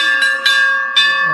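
Brass temple bells hung as offerings at a hill temple in Uttarakhand ring out loudly and close by, three clear strikes with long sustained metallic tones overlapping each other.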